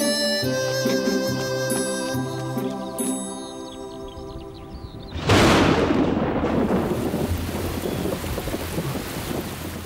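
In an animated series, heavy rain starts suddenly with a loud rushing downpour that follows a stretch of tonal music, then keeps up as dense, steady hiss with a low rumble.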